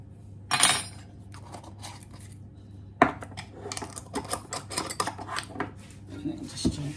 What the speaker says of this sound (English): And then just gently mix that in together by hand.